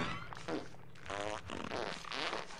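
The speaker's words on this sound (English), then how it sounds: "It's very rhythmic farting." Rhythmic cartoon farting in the video game Conker's Bad Fur Day, a run of buzzy, sputtering blasts in a steady beat, fairly quiet and heard on its own without talk.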